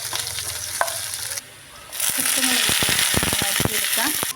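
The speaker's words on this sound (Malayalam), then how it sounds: "എണ്ണ ചൂടായി കഴിഞ്ഞപ്പോൾ കുറച്ച് വെളുത്തുള്ളി, ഇഞ്ചി ഇട്ട് കൊടുത്ത് മൂപ്പിച്ചെടുക്കണം" Garlic, ginger and onion drop into hot oil for a fish curry, a short quiet pause giving way to loud crackling sizzle with sharp spoon scrapes and pops close by.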